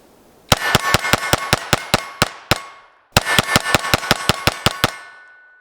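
A Taurus TX22 .22 pistol fires two rapid strings of about ten shots each, separated by a brief pause, every shot loud, sharp and ringing with metallic echo.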